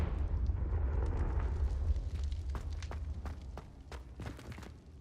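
Confringo fire spell going off in the Hogwarts Legacy video game, a heavy rumbling blast with a sustained low roar and scattered crackling bursts that fade over several seconds.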